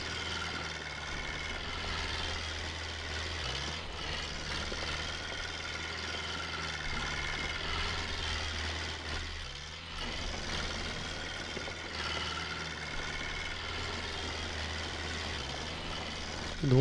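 Tractor engine in Farming Simulator 22, running steadily at idle to moderate revs with a low mechanical drone, a constant close-up hum that holds for the whole stretch with only a brief dip near the middle.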